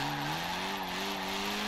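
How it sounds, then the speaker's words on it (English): A Honda S800 drifts in Forza Horizon 4, its tires squealing in a long, steady skid over a sustained engine drone that holds a near-constant pitch throughout. "Who knew that the Honda S800 would be better at drifting than it would racing?"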